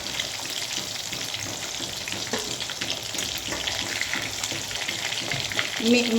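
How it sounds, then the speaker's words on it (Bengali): Rohu fish pieces fry in hot oil, giving a busy, moderately loud sizzle and crackle with occasional stirring knocks and a faint watery splash near the end. "এখন বাকি মাছটিকেও আমি ফ্রাই করে নেব"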